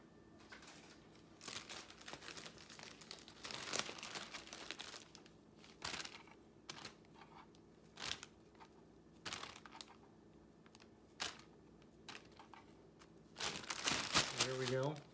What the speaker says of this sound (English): we're going to toss this into a Ziploc bag and shake it around with some cornstarch